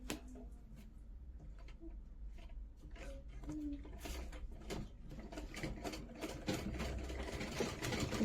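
A sewing machine stitches women's trousers in short, quiet bursts of mechanical whirring and clatter that grow slightly busier toward the end.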